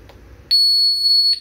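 A short tick, then a high piercing electronic beep from a DESİ Metaline alarm panel arming, holds for nearly a second and cuts off, loud and close in a quiet room.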